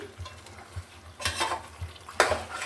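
Duck meat sautéed with chili, salt and spices gives a fairly quiet sizzle, broken by two sharp bursts of spatula stirring against the pan and a few soft knocks.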